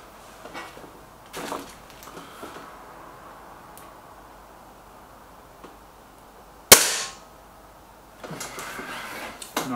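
One sharp, sudden crack from a suppressed SMK XS36 air rifle fired at a target outdoors, loud and brief against quiet background noise, with a few faint clicks and handling sounds around it.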